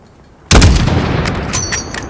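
A single loud rifle shot fired at a range target in the Call of Duty: Modern Warfare video game, a sharp close blast followed by a long rumbling tail with faint high ringing, no voices.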